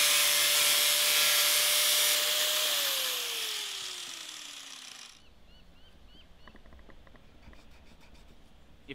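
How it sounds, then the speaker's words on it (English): An angle grinder cuts pipe for a top bar beehive built from a fridge, giving a loud, harsh, steady whine that winds down in pitch and fades to near quiet. "perhaps you don't use the angle grinder to cut the pipe"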